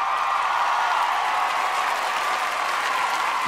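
Loud, sustained applause from a large awards-show audience, a dense unbroken wash of clapping lasting several seconds with no talk over it.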